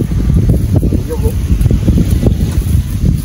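Strong wind gusts buffet the microphone at the seaside, a loud, continuous rumbling roar with people talking in the background.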